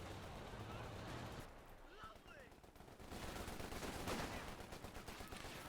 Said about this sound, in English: these Bren Gun Tommies are just hosing Volks Grenadiers